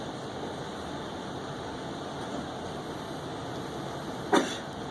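A single sneeze bursts out near the end of a steady murmur of room noise in a lecture hall, brief and fairly distinct against the quiet background.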